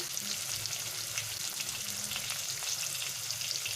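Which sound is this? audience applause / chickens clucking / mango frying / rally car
mango frying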